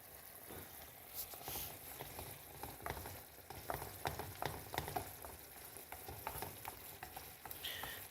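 Roasted peppers and a splash of wine cooking off in a hot pan hiss and sizzle steadily, with scattered stirring scrapes and spatters, close and moderately loud with no talking.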